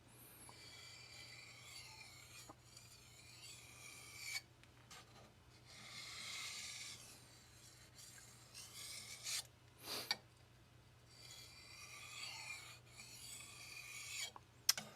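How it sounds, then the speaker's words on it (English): Aogami 2 steel knife drawn across a King resin-bonded 1k diamond stone, a steady close rasping scrape in repeated strokes with brief pauses between passes, fairly quiet over a low constant hum. "I take the sharpening pressure off and it gets a little bit more audible"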